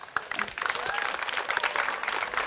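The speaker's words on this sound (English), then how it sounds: "we should all give again another big round of applause for Peter" Applause from an audience at an Independence Day ceremony, a brief busy patter of many hands clapping at moderate level, steady throughout.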